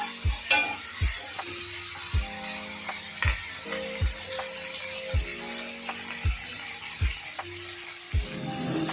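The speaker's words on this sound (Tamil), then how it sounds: "தக்காளி நல்லா வதங்கிருக்கு" Tomatoes sautéing in a pan, a continuous soft sizzle broken by regular low knocks from a spoon or spatula striking the pan roughly once a second, with a faint hum running underneath.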